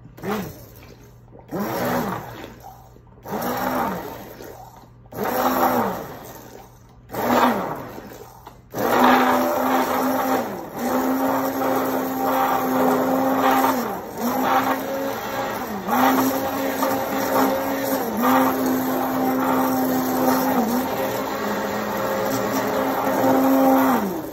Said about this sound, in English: I love the immersion blender